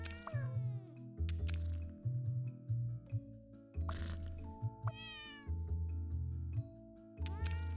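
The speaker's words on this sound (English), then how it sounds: "There's too much meowing." Cartoon cats in the puzzle game Cats Organized Neatly meow repeatedly, short pitched meows and caterwauls recurring every second or so over a looping musical backing.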